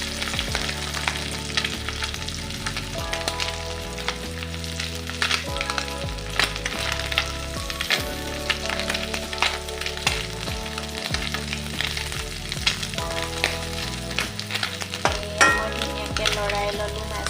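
Small fish fry in a pan of hot oil for koldil bhaji, giving a continuous close sizzle with occasional clinks and scrapes of stirring and turning throughout.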